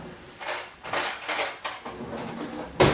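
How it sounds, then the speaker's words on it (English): A round-bladed knife cuts through cooked penne pasta on a hard surface, giving several close, soft clinks and scrapes of metal against plate or board, with quieter rustle between them. "round bladed knife, I'm just going to cut through"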